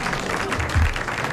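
Studio audience applause on a French radio quiz panel show from 1981, a short burst of dense clapping heard alone at steady loudness.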